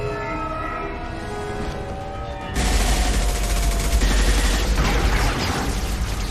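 Sustained gunfire in the video game Mass Effect 2: a quieter game backdrop, then a loud, continuous barrage of shots and impacts that fills the last four seconds.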